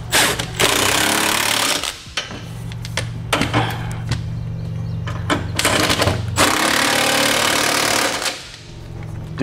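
An impact wrench rattles in loud bursts, hammering as it drives trailer hitch bolts on a 2014 vehicle, with short pauses between runs.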